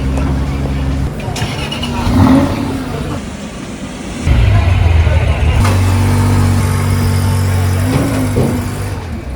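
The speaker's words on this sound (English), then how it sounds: "It's time for all the cars to be loaded away into the trucks" A classic car at a Bonhams auction being driven off toward transport trucks, its engine idling and revving up, then settling into a steady drone, loud and close, with people talking over it.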